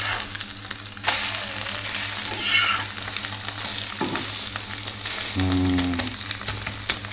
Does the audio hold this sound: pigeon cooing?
no